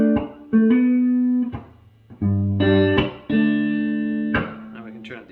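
An Ibanez GAX70 electric guitar with its pickup toggle switch moved to another position plays a short run of clean sustained chords and single notes with brief gaps between them.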